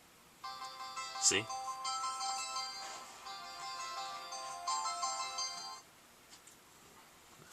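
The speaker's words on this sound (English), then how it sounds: "Phone going off." A telephone ringtone goes off with a repeating electronic melody that plays for several seconds near the mic, while someone speaks over it.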